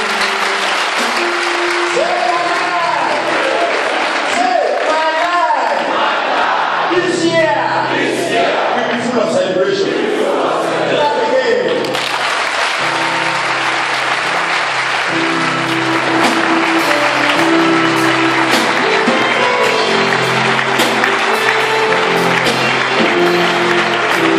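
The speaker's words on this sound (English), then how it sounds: "Just clap a big time, a big clap right away." Church congregation clapping and cheering in worship: loud, sustained applause mixed with shouting, whooping voices and music-like tones, the crowd noise staying dense and energetic for the whole stretch.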